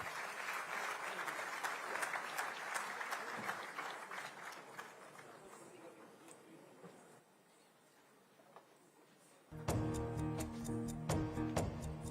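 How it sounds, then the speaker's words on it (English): Sustained applause from an audience at a ceremony honouring the armed forces, greeting a painting and its artist; dense clapping fades after several seconds, then music enters near the end. "Ladies and gentlemen, give a huge round of applause for the art and the artist."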